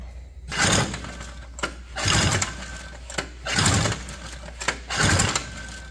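A vintage Honda Odyssey dirt-track race car engine, carb cleaner sprayed into the intake and exhaust pipe refitted, is cranked in four loud rhythmic bursts with short pauses between them. It never catches and runs.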